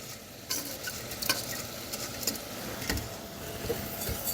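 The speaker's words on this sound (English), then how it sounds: "I fry the rice with the onion and garlic until it gets smaller and white." Jasmine rice frying with onion and garlic in a pan, sizzling steadily while a utensil stirs it with repeated scraping strokes, close and moderately loud, no talking.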